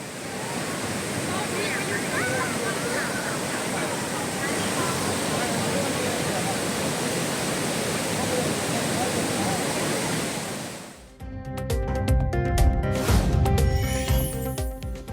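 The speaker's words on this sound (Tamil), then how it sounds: "விடிய விடிய பெய்த மழையால் அருவியில் ஆர்ப்பரித்து கொட்டும் தண்ணீர்." Courtallam falls roars in flood after an overnight downpour, a loud, steady, broadband rush of pounding water that fills the scene for about ten seconds before cutting abruptly to a different, rumbling outdoor recording.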